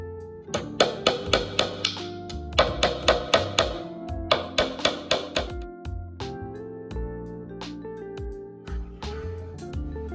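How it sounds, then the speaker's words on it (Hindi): A hammer drives a nail into a wall to make a hole for a question-mark hook. Several bursts of quick, sharp metallic strikes ring out close up, with short pauses between runs and no talking. "मार्क पे चलिए अब कील से सुराख कर लेते हैं।"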